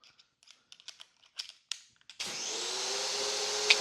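A Craftsman 1700 pressure washer spraying water through a Keeve nozzle, a steady loud hiss that starts abruptly after a few quiet clicks and knocks and holds without pause to the end.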